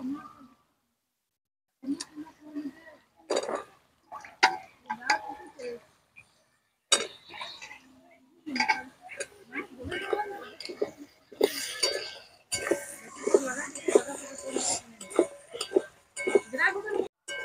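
Cut drumstick stalks are dropped into a cooking pan while making a small-fish curry, with intermittent clinks and clatters of utensils against the pan and speech between them.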